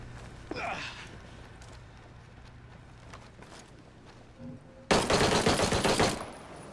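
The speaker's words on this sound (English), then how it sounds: "Just got ripped up with a pistol." Pistol gunfire in Ghost Recon: Breakpoint: a quiet stretch with faint ambient noise and scattered clicks, then a loud burst of rapid shots near the end that cuts off sharply.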